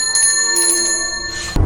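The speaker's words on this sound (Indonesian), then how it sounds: "suara lonceng itu terdengar lagi" A bell rings with bright, sustained metallic overtones and a quick shimmer of strikes, loud and close, ending in a brief low thump.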